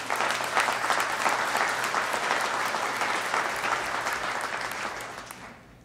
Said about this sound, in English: So again, applaud yourself, please.